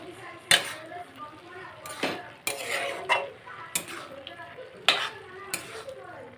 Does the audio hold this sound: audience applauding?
no